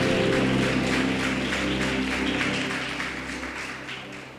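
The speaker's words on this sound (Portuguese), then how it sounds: "Aplauda Jesus bem forte." A church congregation applauds loudly during an evening service, a dense wash of clapping over a faint musical backdrop that gradually fades toward the end.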